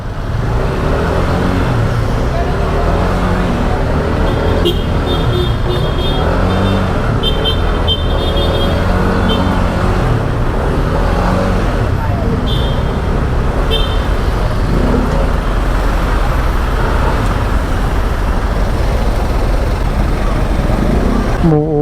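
A Yamaha NMAX 155 scooter rides through flood water amid loud, constant roadway noise, with brief horn toots and voices talking over the engine and water.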